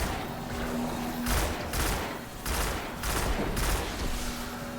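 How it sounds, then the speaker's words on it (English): Pulse rifle gunfire in the Destiny King's Fall raid: four short, rhythmic bursts of loud rapid shots, evenly spaced with brief gaps between them over steady background hum. "These pulse rifles have weird recoil."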